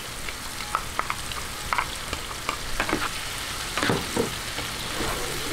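Tomatoes and chili frying in a pan as shrimp paste goes in for a milkfish dish, giving a steady close sizzle with irregular stirring clatters and scrapes that build toward the middle.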